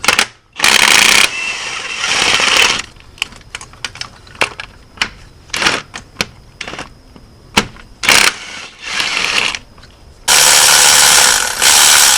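A ratchet wrench removes the transmission mount bolts on a 2014 Honda Civic, with bursts of rapid metallic clicking separated by scattered single clicks and clanks, loud and close.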